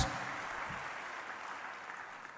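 A church congregation clapping during a Mother's Day sermon, a dense steady patter of applause, fairly faint and distant, slowly tapering.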